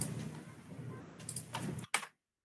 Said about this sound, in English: I will be typing abc.js